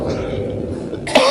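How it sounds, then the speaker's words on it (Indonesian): A single short cough or throat-clearing, close to the microphone, following a moment of low murmuring. "Tempo dulu, nak batuk dulu"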